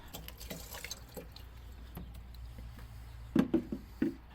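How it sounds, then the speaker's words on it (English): Water trickles and drips into the overflow reservoir of a Pontiac Fiero, faint and close, with a few sharper splashing drops near the end. "I then followed that up by filling the overflow reservoir with water"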